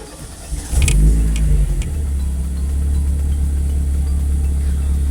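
A Chevrolet Kadett SLE with an FT300 engine cranks briefly, fires up with a loud rising rev, then settles into a steady, slightly raised idle close by.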